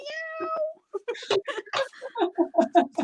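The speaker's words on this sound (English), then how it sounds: "I don't know if you can hear my cat now, but she's like screaming all over the house" A cat meows loudly and repeatedly, drawn-out cries in quick succession, close by and insistent, with no talking over them.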